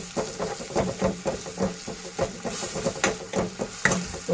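Besan-coated okra, Sindhi-style besan bhindi, frying on a slow flame in a pan, with a soft continuous sizzle broken by repeated light stirring scrapes and clinks, fairly quiet and close, no voices.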